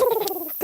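Pet goslings calling in a short burst of nasal, duck-like peeping, a falling call followed by a brief rising one, close and fairly loud with no talking.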